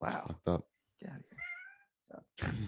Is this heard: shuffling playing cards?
no